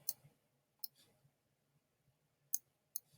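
A computer mouse clicks sharply and sparsely while copies are dragged, with a pair of clicks close together near the start and two more near the end, heard close against a quiet background.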